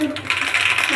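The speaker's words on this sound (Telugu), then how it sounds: "ఆవాలు వేసుకుందాం." Mustard seeds tossed into well-heated cooking oil crackle and pop in a quick, bright burst of small ticking snaps, close and brief.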